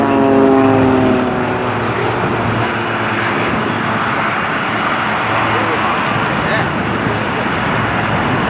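Blades team Extra aerobatic aircraft sweep across the display line at Culdrose Air Day, a loud, steady propeller-engine roar that peaks early and holds, with a commentator talking over it.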